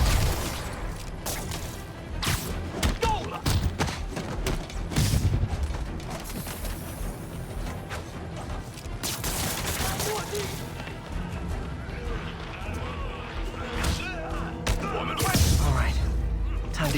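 Enemy gunfire in Insomniac's Spider-Man game, with dense bursts of shots and booming impacts piling up over a busy, loud mix of game noise, while a player talks over much of it.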